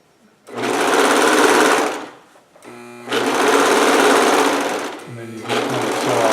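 A sewing machine stitches a Hawaiian shirt made from Simplicity pattern 3852, running in three loud, steady bursts with brief pauses between them. The second pause is very short, and the whirring motor drones on near and close.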